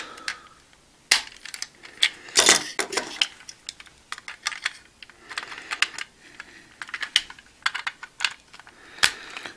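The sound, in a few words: plastic model kit wing parts clacking together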